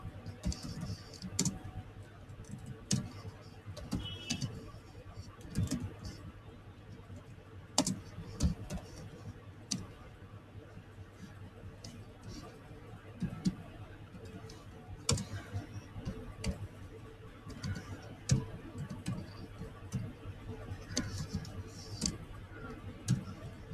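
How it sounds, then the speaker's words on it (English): Keys clatter on a computer keyboard while Java code is typed, a quiet, steady run of close clicks with brief pauses between bursts, heard alone. "And we can type"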